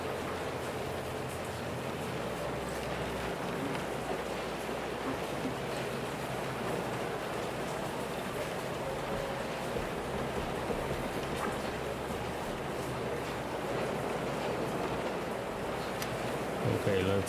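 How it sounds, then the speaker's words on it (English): Steady rain in Kingdom Come: Deliverance II, a loud, even hiss of falling drops on surfaces filling the whole stretch, with someone talking faintly beneath it at moments. "Oh, this rain is too loud."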